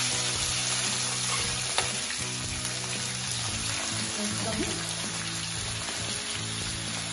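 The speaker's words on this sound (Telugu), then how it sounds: "ఆయిల్ వేడెక్కాక ఇందులో ఒక 1/2 కిలో పచ్చి రొయ్యలు వేసుకోవాలి" Half a kilo of raw prawns fry in hot oil in a pan, making a dense, steady crackling sizzle like rain that stays close and fairly loud all the way through, with occasional faint clinks.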